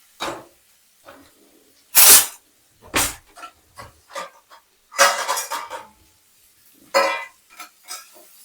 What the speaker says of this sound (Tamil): நான் எந்த கரண்டி வச்சிருக்கேன் பாருங்க, சாப்பாடு கிளறதுக்காக.